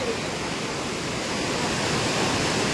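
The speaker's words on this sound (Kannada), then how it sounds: "ಇದು ನಂದಿನಿ ನದಿ" Continuous broadband rush of the Nandini river flowing, steady and fairly loud, with no voices over it.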